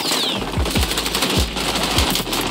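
Rapid automatic MP7 fire in the shooter game XDefiant, a continuous loud rattling stream of shots with heavy low thumps, no talking.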